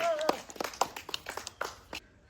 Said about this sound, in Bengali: দর্শকের কাছ থেকে তার জন্য করতালি হবে।